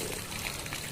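Water is sprayed onto fresh concrete for curing at a construction site, giving a brief, steady hissing splash.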